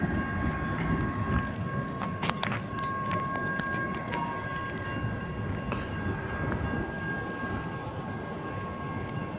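An LSRC mixed freight train, led by a CIT leased locomotive, rolls through the Richfield Road crossing with a loud, steady rumble and rail clatter, while sustained tones ring above it throughout.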